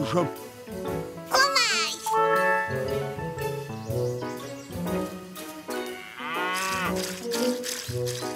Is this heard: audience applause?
no